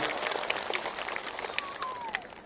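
Clapping from a crowd at a political rally in Runikhata, Ashrabari, steady scattered hand claps with a few sharp louder ones and a brief whistle, moderately distant, no talk.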